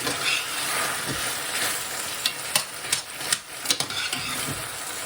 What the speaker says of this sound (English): Stir that and cook that for about another minute.